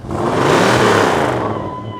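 A classic Mustang's 4.7 litre V8 revs hard and roars, the deep rumble swelling then easing off, loud and close by.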